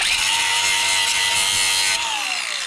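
An angle grinder cleans spots off metal in a race car build shop, a loud, close, steady high whine that drops in pitch and eases slightly as it winds down at the end.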